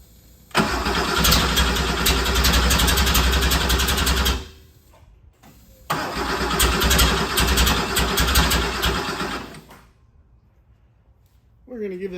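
A 1974 Porsche 911S starter cranks hard in two long, rhythmic bursts with a pause between, the motor churning but not catching, then a voice speaks.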